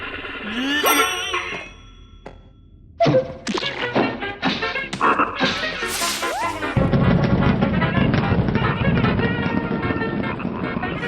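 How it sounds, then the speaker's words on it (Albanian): In a video game, a series of knocks and metallic clanks, then a sudden loud explosion blasting a door open gives way to a sustained roar of rumbling debris. "Unë do hap derën me anë të një shpërthimi"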